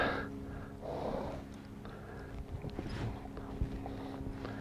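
Hooves clop slowly on the ground at an easy walk, with a horse snorting and sniffing nearby; no talking.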